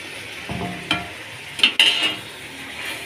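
Chicken necks frying in a pan for garden pulao, with a bright sizzle and a few scrapes and clinks as a spoon stirs, close up.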